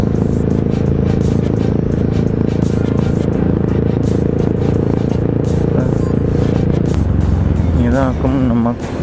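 A motorcycle is ridden along a road, its engine and exhaust droning loudly and steadily up close with wind rumble, then easing off near the end as a voice speaks over it.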